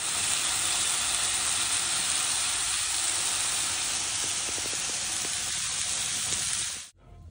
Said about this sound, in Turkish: püre için bir bardak su, bir bardak süt. Bu kaynayacak.